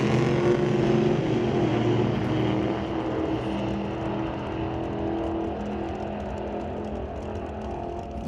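A Pontiac Grand Am drag race car at a doorslammer qualifying event roars down the strip, its engine a steady loud drone that slowly fades as it pulls away.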